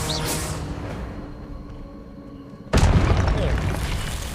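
Spell effect from a Harry Potter video game: a sudden loud burst with a booming impact and whoosh cuts in after a stretch of quieter game ambience, then sustains as a rumbling wash.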